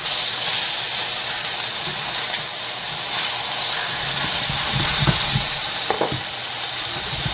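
Chicken frying in extra virgin olive oil, a loud continuous hiss and sizzle from the pan with faint crackles and a few soft clinks of tongs, no voices.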